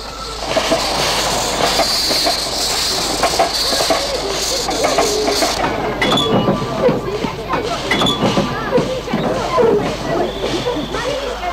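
A departing train rumbles and clatters on the rails, with hissing and occasional wheel squeals as it moves; voices can be heard faintly beneath the noise.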